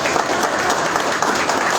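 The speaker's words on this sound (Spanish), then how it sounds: "Un aplauso grande, por favor." A crowd applauds at a presidential campaign rally for candidate Xavier Hervas in Imbabura. The clapping is brief, dense and sustained, with an even, loud wash of hands and no speech over it.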